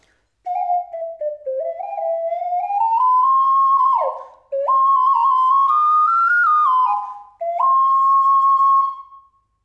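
A pure, breathy ocarina plays a slow, gliding melody in a few phrases, clear and close with short pauses between.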